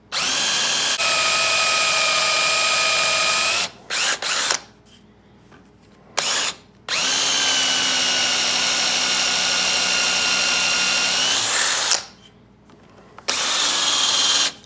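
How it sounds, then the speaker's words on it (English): A power drill bores a hole in hickory for a wood-turning tool handle, loud steady motor whine with the bit cutting in long runs, broken by a couple of short pauses and restarts, close by. "I'm going to finish drilling out the hole"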